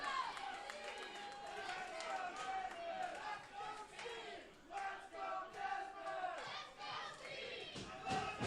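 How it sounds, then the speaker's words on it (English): A wrestling show crowd roars with mixed reactions, a dense wash of shouting, chanting and yelling voices that swells and dips over several seconds, with some children's voices audible in the din. "Now a bit of a mixed crowd reaction here."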